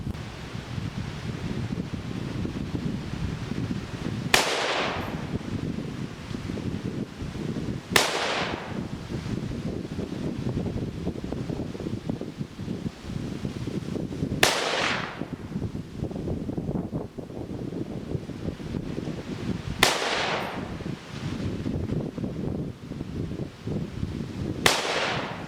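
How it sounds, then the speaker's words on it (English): Smith & Wesson M&P 10 rifle fired at a 100-yard target with a 4-12x50 scope, five sharp loud reports spaced several seconds apart over steady outdoor wind noise. "Here I am shooting at 100 yards with the new setup."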